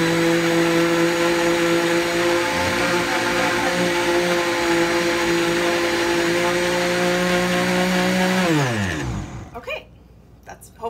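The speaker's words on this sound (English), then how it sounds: "that's hopefully all the blender for now, so we won't have to listen to that anymore" A blender whirs loudly and steadily while mixing a Painkiller-style cocktail, then its pitch drops as it winds down and stops near the end, leaving quiet room sound.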